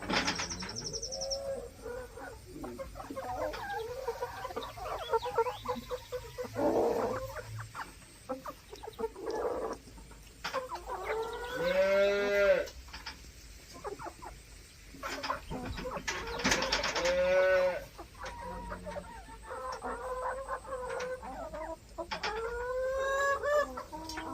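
Hens cluck and cackle repeatedly, with bursts of louder squawking among several birds and a low barnyard hum underneath.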